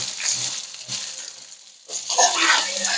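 Eggplant frying in a pan, browned for a Bengali fesa fish and tomato curry, a close steady sizzle with stirring swells that fades briefly before growing louder again, no voices.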